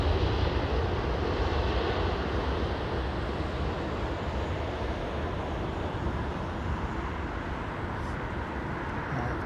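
A fixed-wing airliner lands on the runway at London Heathrow Airport, producing a continuous broad engine roar with a steady rushing texture that holds at an even, moderately loud level with no talk.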